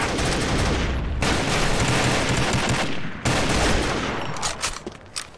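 Dense automatic gunfire from the online shooter Combat Arms, a loud sustained fusillade of rapid shots with brief gaps near 1 and 3 seconds, trailing into scattered bursts at the end.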